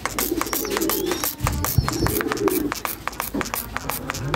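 Two young pigeon chicks coo softly up close, their low calls broken by sharp rhythmic tapping and fluttering noises.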